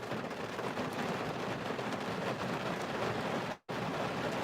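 Heavy rain pours down outdoors in a steady, dense broadband wash with no talk, continuous and loud apart from a brief dropout near the end.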